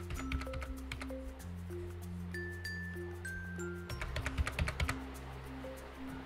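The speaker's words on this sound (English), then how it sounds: "type in that address here if you're in Europe" Computer keyboard keys tapped in short irregular bursts, an address being typed, close and fairly quiet over a steady background hum with faint tonal beeps.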